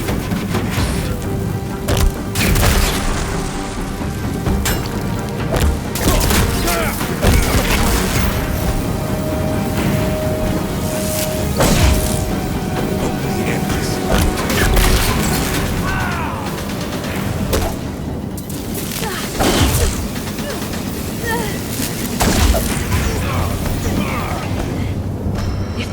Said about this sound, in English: If the Deathbringers keep firing